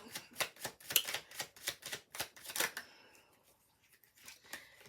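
Tarot cards being shuffled and drawn from a deck, a quick run of sharp, close papery flicks and slaps in uneven rhythm that trail off into quieter rustles, no voices.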